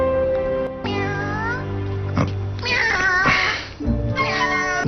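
A cat meows repeatedly in several drawn-out, rising and falling cries, fairly close, over a background music bed.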